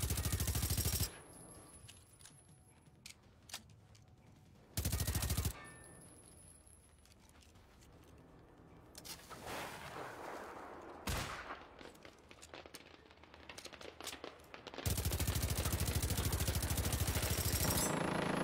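Video game combat with bursts of rapid gunfire that start and cut off abruptly, several loud sustained volleys separated by quieter stretches of scattered shots and clatter, with no talking.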